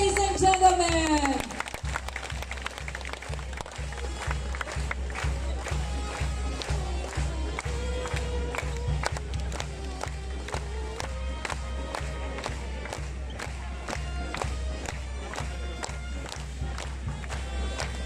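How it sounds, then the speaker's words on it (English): A crowd at a sports fest claps and cheers in a steady rhythmic applause, fairly distant and continuous, over a loud, pulsing sound-system beat, with a voice speaking at the start. "warm applause, ladies and gentlemen."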